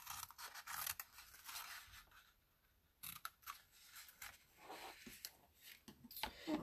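Scissors snip through paper card while an exploding box card is trimmed, giving a run of quiet, crisp cuts in irregular bursts with a short pause midway.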